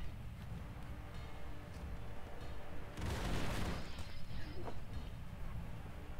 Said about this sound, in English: Apparently, it's the terror cannon.